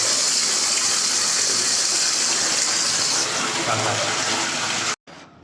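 Water gushes hard from a household tap into a bucket, a steady loud rushing fill that runs continuously for about five seconds before cutting off abruptly.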